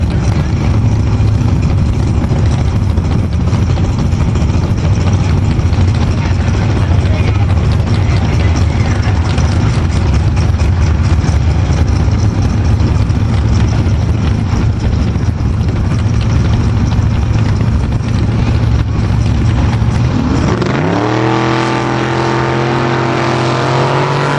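Two 454 cubic-inch big-block Chevy drag cars, a Chevy Monza and a 1975 Chevy Camaro, roar loudly and steadily down the strip, with engine pitch rising sharply near the end as one pulls away.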